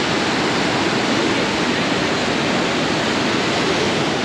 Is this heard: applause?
no